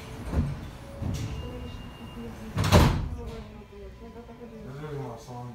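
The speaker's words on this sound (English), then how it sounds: "Stand clear of the closing doors" Doors of an R160 subway car on a Coney Island-bound F train, running without HVAC, close with several sharp, close thuds. The loudest slam comes midway, followed by tonal voices or announcements over a steady rumbling background.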